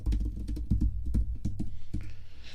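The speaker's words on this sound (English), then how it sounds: "let me type it one more time." Keys clack on an iPad Pro Magic Keyboard in a steady run of about a dozen close, crisp strokes, then stop. No one speaks.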